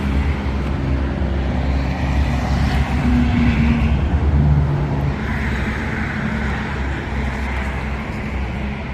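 A Kobelco SK70SR-2 mini excavator with an Isuzu 4LE2 four-cylinder diesel engine idles steadily, a close and constant low rumble with no pauses.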